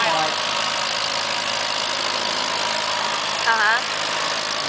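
Antique Allis-Chalmers WD tractor engine at an outdoor tractor pull, a steady mid-pitched running drone with a brief rise near the end, heard at a distance under a nearby announcer's commentary.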